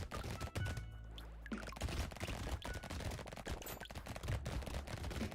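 Rapid bursts of SMG fire in a video game, dense overlapping shots crackling almost continuously at steady loudness with a brief lull early on.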